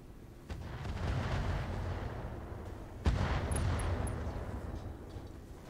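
Mech weapons fire rumbles in Roguetech, a BattleTech mod, as heavy low booms start suddenly and roll on, with a second sharp blast midway, distant and muffled with no talking.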